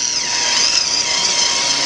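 Polishing machine running steadily on wet granite or marble stone, a continuous high, airy whine with a faint hiss, close and alone.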